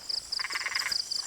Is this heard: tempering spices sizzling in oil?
no